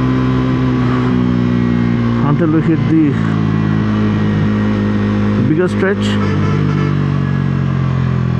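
A black motorcycle in sport mode revs hard and accelerates, its engine loud and close with rising and falling pitch sweeps as it climbs through the gears, while someone talks over the roar.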